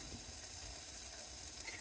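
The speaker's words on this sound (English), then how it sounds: "gently fry them just in that little bit of oil, just to warm them through a little bit" Onions fry gently in a little oil in a pan at a hot-tent camp, giving a soft, steady, faint sizzle with no voices.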